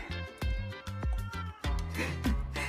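A house cat meows repeatedly in a kitchen, its plaintive cries rising over steady background music, close and fairly clear.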